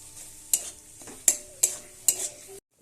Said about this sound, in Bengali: আমি পনিরগুলোকে দিয়ে দেবো, এবার দিয়ে আলুর সঙ্গে ভালো করে কষিয়ে নেব